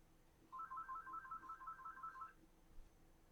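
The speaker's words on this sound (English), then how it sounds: "Ignore the ringing that you hear." A phone rings once in a quiet room, a single short electronic trilling burst lasting under two seconds, faint and alone.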